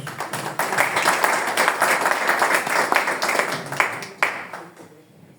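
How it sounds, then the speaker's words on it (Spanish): An audience at a book day talk in Cajamarca greets a speaker with warm applause, brisk clapping from a modest crowd that thins and fades away at the end. "Lo recibimos con cariñosos aplausos."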